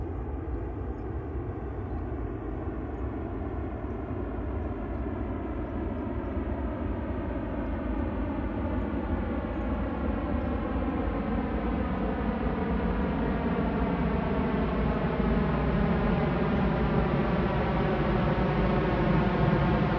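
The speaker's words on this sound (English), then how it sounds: "I will now let you hear a part of the flyover sound of the Airbus 380." An Airbus A380 airliner passes overhead in a continuous loud roaring flyover, a broad engine rumble with slowly shifting tones that gradually swells, heard alone without voices.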